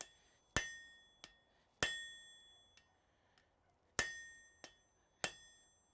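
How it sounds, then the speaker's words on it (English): Hot metal is struck with a hammer at a smithy anvil to bend it. Sharp ringing blows come irregularly, each with a fading metallic ring, some followed by lighter rebound taps. "Let's give it a few more whacks from behind to see if I can get it to bend in the direction I want it to go."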